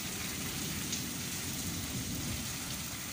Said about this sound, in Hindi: गरज चमक के साथ मूसलाधार बारिश ने जल थल एक कर दिया